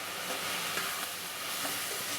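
Steady sizzling and hissing from cabbage sautéing in a pan, with occasional soft stirring scrapes, continuous and close.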